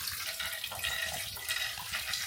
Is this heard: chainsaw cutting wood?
no